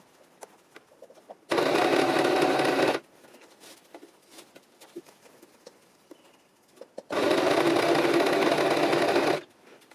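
A sewing machine stitches a scrunchie in two bursts of steady, close mechanical whirring, each lasting one to two seconds, separated by a quiet pause with small handling clicks.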